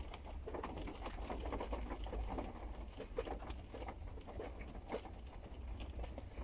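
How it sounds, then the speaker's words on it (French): Rain patters steadily on a house roof in a dense, even wash of small drops with scattered sharper taps, fairly faint and continuous, with no voices. "accueillons la pluie, celle que vous entendez sur mon toit."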